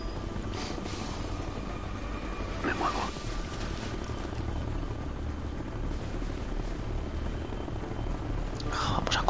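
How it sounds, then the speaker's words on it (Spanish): A helicopter in the video game Ghost Recon: Future Soldier drones steadily with a constant rotor rumble and hiss, joined by faint game effects over its length. "Helicóptero."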